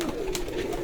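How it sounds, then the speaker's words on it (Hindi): A Teddy pigeon on a rooftop gives a single close, low, drawn-out coo that lasts under a second and is heard alone with no talking. "ਇਹ ਟੈਡੀ ਕਬੂਤਰ ਹੈ।"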